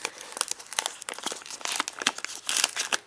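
Crinkly, ripping sounds of packing tape being peeled off a parcel, in rapid uneven bursts.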